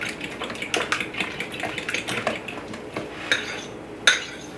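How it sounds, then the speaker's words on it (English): Sweet potato casserole ingredients being mixed in a bowl, with repeated clinks and scrapes of utensil against the dish in an irregular rhythm, close and moderately loud, a couple of sharper knocks near the end, no talking. "So while she's mixing all of that together"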